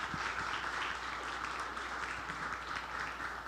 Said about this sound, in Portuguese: Dá uma salva de palmas para as nossas mães.